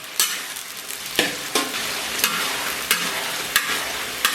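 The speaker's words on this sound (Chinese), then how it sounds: "咱们给里边来点这个郫县豆瓣酱，再次给它艰难煸炒一下" Pixian chili bean paste stir-fries with scallion, ginger and garlic in warm oil, a close hissing sizzle punctuated by about seven sharp spatula strikes and scrapes.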